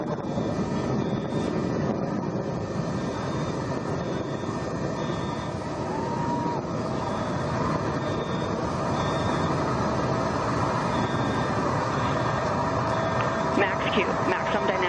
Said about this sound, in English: Engine back up to full throttle.